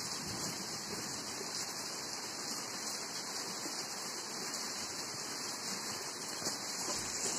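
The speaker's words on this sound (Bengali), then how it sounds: "হঠাৎ করে বৃষ্টি পড়তে শুরু" Rain that starts suddenly falls as a steady, faint, even hiss with no pauses throughout.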